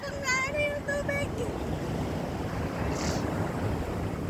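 Waves wash ashore at The Entrance, Central Coast, NSW, Australia, rushing in with a broad, steady roar, close and loud, with a few voices calling out briefly at the start.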